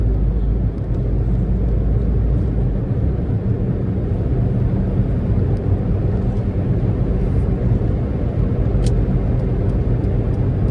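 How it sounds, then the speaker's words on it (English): A 22-year-old Tata Indica petrol car accelerating in fourth gear around 40 in Mumbai, a loud steady engine drone with low rumble and road noise, continuous and close. "I'm in 4th in 40 and the car is accelerating."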